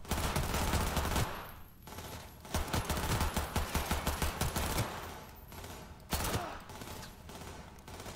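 Bursts of automatic gunfire from Cyberpunk 2077 rattle in rapid volleys, broken by short pauses and ending in a final sharp burst, with no talking over it.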